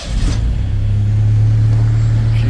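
A Ford Ranger engine with the choke on fires up on the key and settles into a steady, loud, low idle rumble with a slight misfire, close by and continuous.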